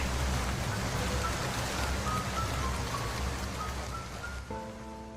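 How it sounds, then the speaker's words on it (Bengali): Cartoon rain effect in a jungle-set Bengali story: a dense, even roar of heavy rainfall throughout, with faint sustained musical tones creeping in toward the end. "বৃষ্টি থেমে যায়।"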